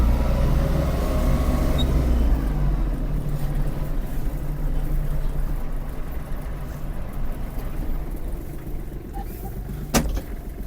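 Kubota GL-260 mini tractor engine at full throttle, a loud steady low diesel drone heard from inside the cab, with a sharp click near the end.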